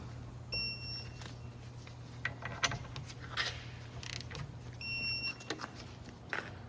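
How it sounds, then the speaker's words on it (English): Torque wrench ratcheting while tightening caliper bracket bolts on a Cadillac SRX, a series of soft clicks and mechanical ticks over a steady low hum, with two short high beeps near the start and middle, close and quiet. "we're going to torque these caliper bracket bolts down to 81 foot-pounds"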